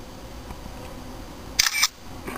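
Gizmondo handheld's camera gives a short digital shutter click sound, a brief bright burst of two quick snaps over quiet room hiss.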